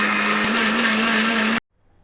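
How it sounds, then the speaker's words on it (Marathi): A mixer grinder whirs loudly and steadily as it grinds soaked rice with water and a little salt into a fine batter, then cuts off abruptly, leaving near silence. "मिक्सरला फिरवून घ्यायचं."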